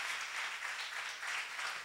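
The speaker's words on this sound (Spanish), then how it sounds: "Denle un aplauso a Dios." A church congregation applauding during a sermon, a soft, continuous wash of clapping heard from a distance at low volume, with no voices rising above it.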